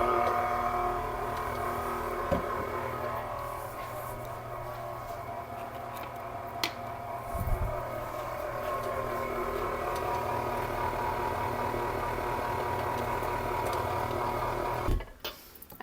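A stand mixer with a K-hook beats thick carrot cupcake batter, a steady whirring motor hum running continuously and evenly, then cutting off abruptly at the end.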